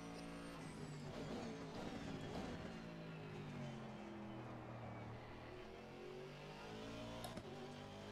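A race car engine in the Assetto Corsa Competizione game, racing at Kyalami, hums steadily at moderate volume with rising and falling gear pitches throughout and no talk over it.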